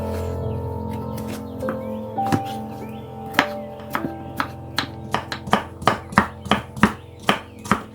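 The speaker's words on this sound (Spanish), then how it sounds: "lo vamos a cortar todo a lo largo para después partirlo en trocitos más pequeños" A knife chops peeled zucchini into small pieces on a board for a filo pastry tart, a steady run of sharp close taps that quickens into a rapid rhythmic series toward the end.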